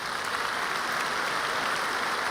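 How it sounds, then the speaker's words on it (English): Dense, sustained applause fills the room at a 30th-anniversary gala, a steady wash of many hands clapping at once with no pauses. "More big applause for you"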